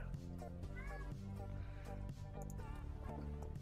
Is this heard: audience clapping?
no